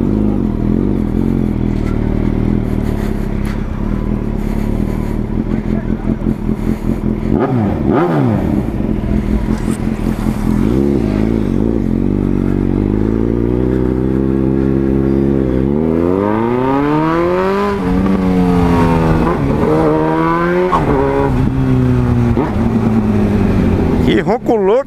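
Loud B-King motorcycle engine running close, with rising and falling revs and sweeping pitch changes, a voice talking over it.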